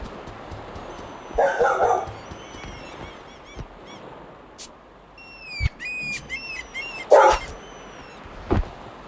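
A dog lets out a couple of barks alongside thin, high whimpers and whines scattered over several seconds, with sharp clicks in between, outdoors near a large fire.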